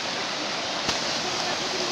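Steady, broadband rushing water close by at the Shypit waterfall near Pylypets, a constant roar, with a single brief knock partway through.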